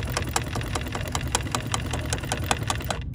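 A BERNINA sewing machine stitches fabric with a quick, even mechanical patter of regular needle strokes, close and moderately quiet, stopping abruptly at the end.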